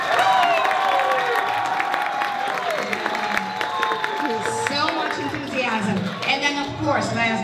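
Applause and cheering from a school audience for a first grade group at an elementary school Black History Month program, a sustained crowd roar of clapping and shouts with voices mixed in throughout.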